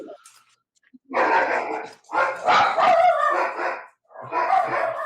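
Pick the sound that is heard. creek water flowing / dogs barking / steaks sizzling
dogs barking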